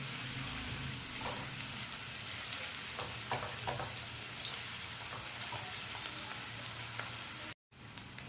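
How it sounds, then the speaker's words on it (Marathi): Chopped onion sizzles steadily in a hot pan as it fries until reddish brown, a dense, close crackle with a few louder spits and stirring scrapes, then a brief cut near the end. "कांदा पण एक चांगला परतून घ्यायचा आहे लालसर कलर येऊपर्यंत त्याला परतून घ्यायचा आहे"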